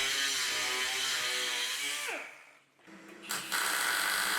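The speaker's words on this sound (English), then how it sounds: "These towing eye points are being welded into the end of the chassis legs" Welding towing eye points into the ends of the chassis legs on a turbocharged four-wheel-drive Austin Mini, a loud steady buzzing whine that falls away in pitch, briefly cuts out, then resumes.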